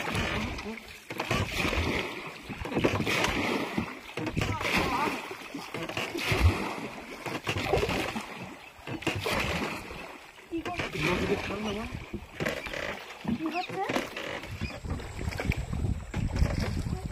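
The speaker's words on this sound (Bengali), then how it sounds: "মোটেও আগাচ্ছে না নৌকা, এখানে এক জায়গায় কতক্ষণ থেকে আমরা আছি।" A rowing boat labours against a strong river current at a new-moon spring tide, with oars splashing in uneven strokes, wind buffeting the microphone and people talking throughout.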